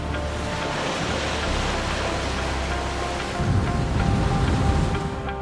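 Steady broadband rush of sea water around a sailing boat in Thai waters, continuous and fairly loud, swelling slightly louder toward the end with no voices.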